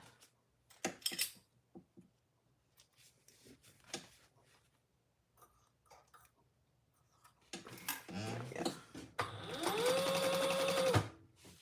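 A sewing machine works on a trifold wallet in short, scattered bursts with quiet ticks and handling noises, then runs in a louder, longer stretch near the end that stops abruptly.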